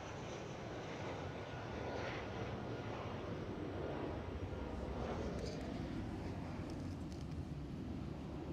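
An Air Serbia airliner departs runway 24 at Amsterdam Schiphol, a faint, distant, steady engine roar that holds throughout.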